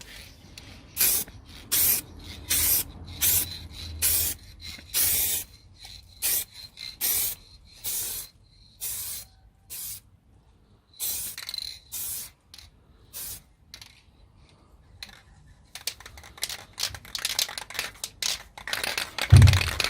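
Short repeated bursts of a spray gun laying a coat of paint on a panel of a Vauxhall Astra H, each hiss lasting about a second with brief pauses, close and steady, growing denser near the end.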